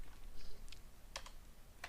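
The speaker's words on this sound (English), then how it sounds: "I hit F on the keyboard and F again" A few computer keyboard keys are pressed, sparse soft clicks over a faint room hum, with two clearer taps standing out near the end.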